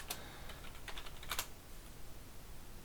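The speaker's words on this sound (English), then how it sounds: "I will type it in." Quiet typing on a computer keyboard, a few scattered clicks and short bursts of keystrokes over low background hiss, with no voices.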